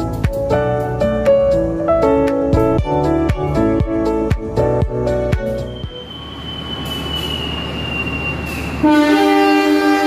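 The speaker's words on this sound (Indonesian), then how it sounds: "Yang saat ini teman-teman lihat adalah proses pemberangkatan kereta api Kahuripan." The Kahuripan passenger train departs Blitar station. Close and loud, a series of sharp horn-like tonal blasts gives way to rolling rumble, a long high wheel squeal, and then more tonal horn sounds at the end.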